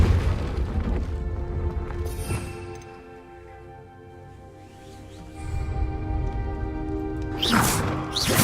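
A Confringo fire spell goes off in a video game as a deep, rumbling boom that fades to a quieter lull. A second burst follows, with sharp crackling near the end.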